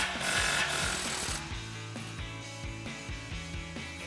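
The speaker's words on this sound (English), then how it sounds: "we're going to grab our 15 mil socket on our impact and loosen this up" A pneumatic impact wrench with a 15 mm socket works loose an exhaust clamp on a Ford F-150, giving a loud burst of hammering followed by repeated rhythmic mechanical rattles and clicks close by, with no talk.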